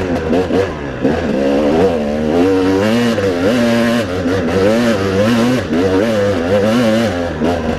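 A dirt bike's engine revs hard and close while it climbs a hill, the pitch rising and falling in repeated surges, loud and continuous throughout with no talking.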